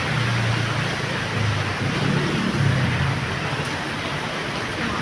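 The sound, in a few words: rain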